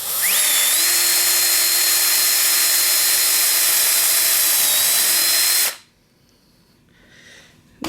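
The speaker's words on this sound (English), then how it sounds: "Run the drill down through, holding as perpendicular as you can" A loud power drill whines steadily for over five seconds as it bores through wood, its pitch climbing early on, then cuts out abruptly, leaving near silence and a faint rustle.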